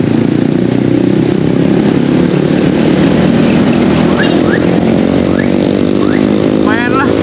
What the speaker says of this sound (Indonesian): Dan pasti aja berisik kawan motor-motornya.